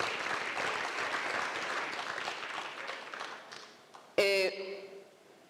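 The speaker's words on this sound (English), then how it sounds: "I think they deserve a round of applause" Audience applause at the 2022 Southern Africa Regional Exporter Awards ceremony fills the room, then gradually thins and fades out, followed by a short, sharp tonal sound near the end.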